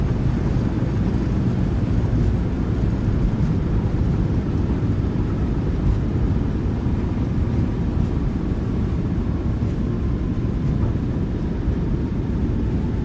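Thrust reversers on a Boeing 737-800 roar steadily through a landing rollout in the MSFS 2020 flight simulator, a dense, unbroken low rumble holding at high level for the whole stretch.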